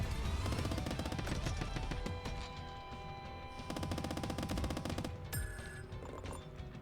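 SMG gunfire in the game Squirrel With A Gun: dense, rapid rattling shots in sustained bursts over a continuous loud game soundscape, with no voices.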